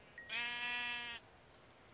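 A sheep bleats once in the Minecraft video game, a single clear, wavering harmonic cry lasting nearly a second, close and alone against quiet background.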